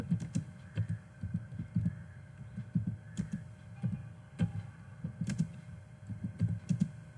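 Keystrokes tapped out on a computer keyboard while typing an HTML comment, a steady run of soft, close clicks in quick irregular bursts with brief pauses, no voices.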